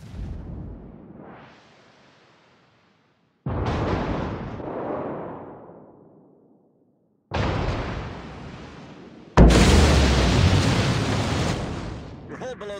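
Warship guns fire in World of Warships aboard the destroyer Somers: four heavy booming blasts, each trailing off in a rumbling decay, the last loudest and carrying a sharp hiss.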